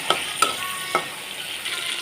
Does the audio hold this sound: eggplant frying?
yes